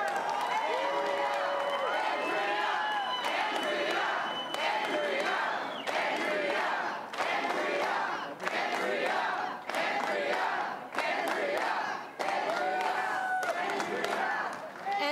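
Election night crowd in Ontario cheering and clapping in loud repeated surges, with roars rising and falling in waves of applause between brief dips.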